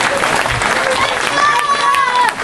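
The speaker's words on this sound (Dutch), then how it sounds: "graag een applaus voor beide dames" An audience at a women's match claps, a dense, loud wash of applause filling the whole short moment, with a voice faintly audible over it.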